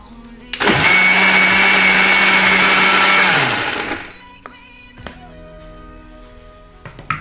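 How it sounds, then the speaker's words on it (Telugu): A kitchen mixer grinder blending guava juice with curd starts abruptly and roars loudly for about three seconds, then winds down to stillness, followed by a few faint clinks. "సో వీటన్నిటిని మళ్ళీ ఒకసారి మిక్సీ పట్టుకుందామండి"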